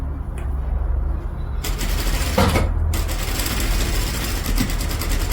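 A sewing machine stitches a dress collar, its motor a steady close mechanical whir with rapid needle clatter running throughout, brief louder bursts of rattle marking changes in speed; no voices.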